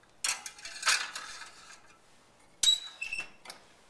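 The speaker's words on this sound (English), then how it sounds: "Now this pan with the eggs is going to go into the toaster oven." A metal pan holding eggs is slid into a toaster oven: a scrape and clatter of metal against the rack, then a sharper knock and brief rattle as it settles, close and alone.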